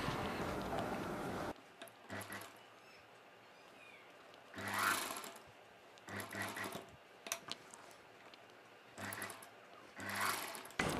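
A sewing machine stitches a seam on a long dress in short bursts of rapid, close mechanical whirring, separated by brief quiet pauses.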